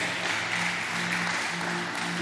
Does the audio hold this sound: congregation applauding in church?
yes